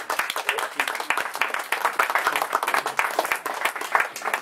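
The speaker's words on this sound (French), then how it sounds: "que je vous demande vraiment d'applaudir" An audience at a conference on animal consciousness gives a warm round of applause for the incoming speaker, dense steady hand clapping from many people that carries on evenly throughout.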